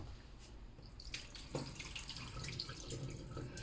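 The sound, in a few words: draining soaking water from red beans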